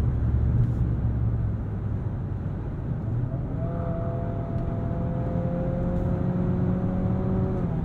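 A 2023 Nissan Altima SR's CVT drones steadily while driving, a constant low hum under road rumble, with a rising tonal whine joining partway through.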